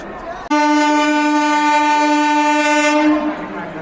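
A train horn blares loudly and steadily for a couple of seconds, then fades, over the hum of a busy train station in India.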